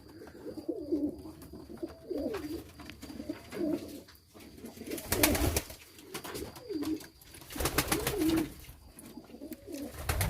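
Pigeons coo repeatedly through their evening feeding, with soft rolling calls near and far. Bursts of wing flapping or scuffling break in partway through.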